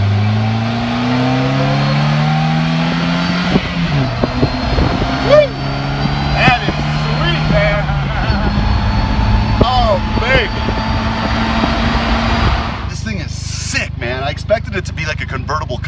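A three-wheeled Stringshot roadster accelerates hard on an interstate, its engine rising in pitch through several gear shifts up close before giving way to rushing wind; voices talk over it.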